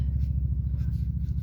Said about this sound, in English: Motorcycle, always. Our neighborhood has a lot of motorcycle enthusiasts.